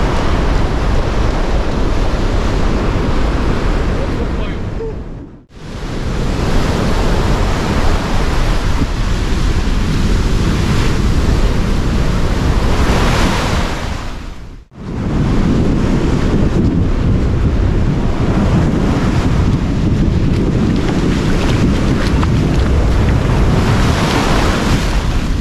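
Sea waves surging onto the Bulgarian coast with strong wind buffeting the microphone, a loud continuous roar broken by two brief dips, no voices.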